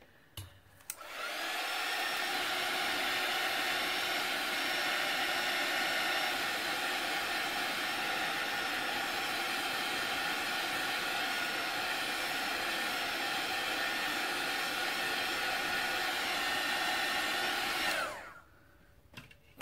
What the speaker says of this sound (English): Now I need to give it a quick blast from my heat tool before I'm moving to my focal image.